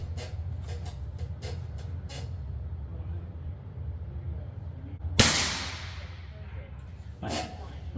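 A single sharp crack from a Weihrauch HW50s .177 spring air rifle, heard close and followed by a short decaying ring, with a faint later click and some quiet tapping beforehand.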